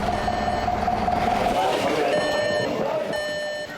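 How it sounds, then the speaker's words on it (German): Repeating electronic alarm tone for a volunteer fire brigade crew in Haunstetten, steady beeping pulses with a sustained pitch under ongoing background noise and a voice. "Alarm für die Mannschaft der Freiwilligen Feuerwehr Haunstetten"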